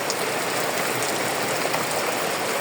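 Rain pours down in Bhola district, a loud, dense, unbroken hiss of water close by with no voices and a slight rise at the very end.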